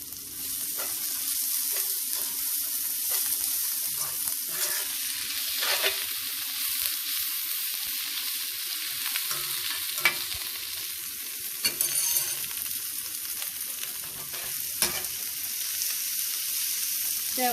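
Coriander leaves and curry leaves sautéing in a pan over low heat, a steady soft sizzle with occasional stirring scrapes and clicks throughout, no voices.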